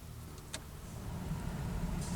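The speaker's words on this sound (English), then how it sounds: "All you can hear is the fan moving air, not making noise, not rattling like it was earlier" Blower fan in a 2004 Chevy Silverado after repair, a smooth steady rush of air at low level with a faint click early on, no rattling or voices.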